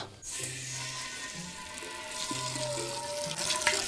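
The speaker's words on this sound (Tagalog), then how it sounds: "Maglalagay na tayo ng tubig." Tap water running steadily into a pot being filled to boil king crab, a continuous close splash and rush in a kitchen with no talking.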